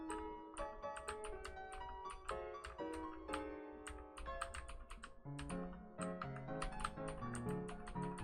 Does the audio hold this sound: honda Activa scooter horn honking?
no